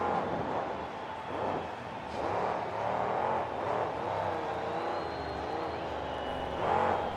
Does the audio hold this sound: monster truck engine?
yes